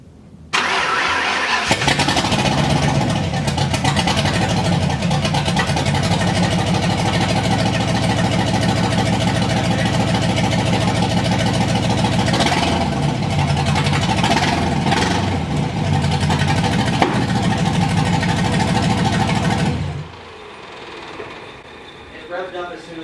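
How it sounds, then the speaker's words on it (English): Mustang drift car engine firing up and running loud and close, a dense rough rumble with repeated revs for about eighteen seconds before cutting off abruptly, leaving quiet background. "Revved up as soon as I put my hand on the pedal."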